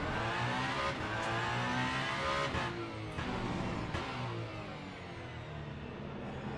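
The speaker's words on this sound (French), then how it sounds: "Le son du moteur est tout simplement génial" Hypercar engine in the racing game Le Mans Ultimate, a steady loud howl with rising revs and sharp gear-change breaks, continuous and close.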